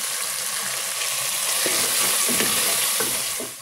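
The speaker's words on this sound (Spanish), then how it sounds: "Y vamos a freír muy bien." A seasoning paste with pepper and crushed oregano fries for Peruvian carapulcra, making a steady, loud sizzle with occasional stirring scrapes throughout. No voices are heard.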